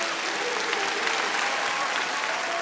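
A comedy-show audience in a hall gives loud, sustained applause for the Kharkiv team, with a thick, continuous clatter of clapping from start to finish.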